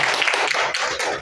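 An audience claps at an education talk, a short burst of brisk, overlapping hand claps with slight dips in the rhythm, close and fairly loud.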